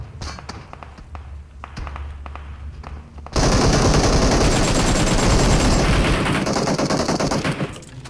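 Gunfire in the mobile battle game PUBG Mobile: faint scattered taps give way to a loud, sustained burst of rapid automatic fire lasting several seconds before cutting off.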